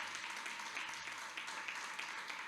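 A church congregation applauds steadily in a continuous wash of many hands clapping, fairly quiet and distant, with a faint murmur underneath.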